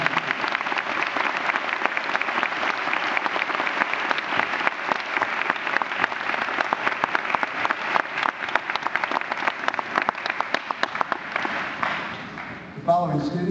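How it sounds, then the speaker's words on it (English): Round of applause for students at a school awards ceremony: a sustained, dense burst of clapping from an audience filling the hall, holding steady before tapering off at the end, with a voice briefly heard. "A round of applause for our 3-7 to 3-9."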